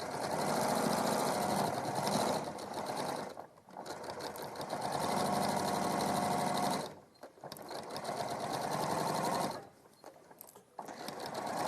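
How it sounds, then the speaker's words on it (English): A sewing machine stitches a padded bag in close, continuous runs of rapid whirring, stopping briefly twice between seams, with reverse stitching at the start and end. "So now we're just going to sew along, reversing at the start and the end."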